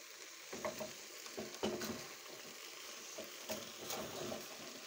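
Pelmeni dumplings frying in a pan are stirred, giving a steady hiss of sizzling oil with a few louder scraping clatters from the utensil, close and alone without talk.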